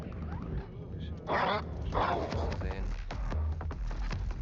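Game dog in Wolfenstein: The New Colossus barking and whimpering in short yips amid combat noise, with someone talking over it.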